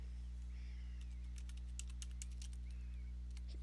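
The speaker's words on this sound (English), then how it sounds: "Now we're going to type get process and then press enter to view the processes running on the server" Keys tapped on a computer keyboard while a PowerShell command is entered on a Windows server, a quick run of light clicks over a steady low electrical hum, with no talking.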